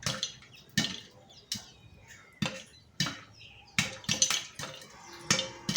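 Sharp pops burst out irregularly as corn kernels pop inside a closed pressure cooker over medium flame, each with a short rattling decay, close by and fairly loud.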